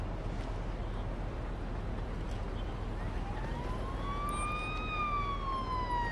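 A siren wails in the Police Simulator video game, rising and sweeping faintly through the second half over a steady low rumble of traffic noise.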